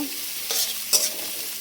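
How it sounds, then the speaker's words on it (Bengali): Onions fry in a pan while being stirred, a steady sizzle broken by two short scraping strokes of the spoon, close and alone. "পেঁয়াজটা একটু ভেজে একটু লাল লাল হবে, তারপরে গাজরগুলো দিয়ে দেব,"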